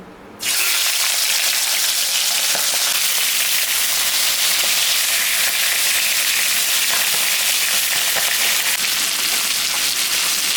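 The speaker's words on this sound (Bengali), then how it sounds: "তেলটা গরম হয়ে গেছে মাথাটা এখন আমি ভাজব" A silver carp fish head drops into hot oil seasoned with salt and turmeric, setting off a sudden loud, dense sizzle that holds steady and close for ten seconds with no talking.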